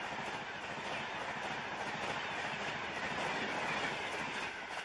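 Gatimaan Express high-speed train running on the Delhi–Agra line in India, a loud, steady wash of wheel and rail noise with faint clickety-clack throughout, no voices.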